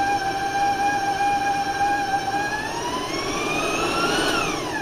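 A stand mixer with a paddle beats espresso cookie batter, giving a steady, loud motor whine whose pitch drifts upward near the end, with no voices.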